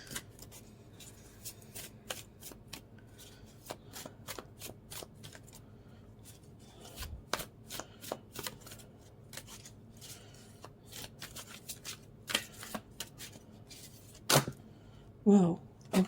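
Tarot-style cards are shuffled and drawn for a reading, giving quiet repeated riffling clicks and flicks throughout, with sharper snaps and handling near the end and no talk.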